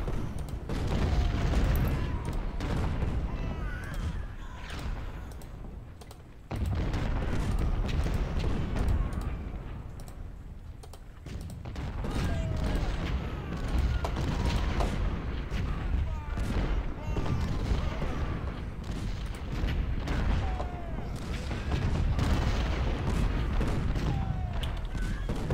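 Artillery pounding enemy lines in Ultimate General: Civil War at Spotsylvania's Mule Shoe, a steady barrage of booming cannon fire and rolling musketry-like crackle, dense and continuous with short pauses.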